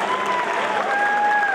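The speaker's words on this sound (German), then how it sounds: "Nochmal einen großen Applaus hier für die komplette letzte Gruppe." Audience applause for the final group called back onto the stage, a steady, even wash of clapping that holds at the same level throughout, with some crowd murmur mixed in.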